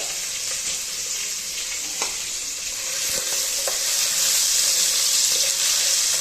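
Onion going into a hot frying pan for Konkani-style chicken dum biryani, giving a steady close sizzle that swells louder partway through, with a few light stirring clicks and no talk.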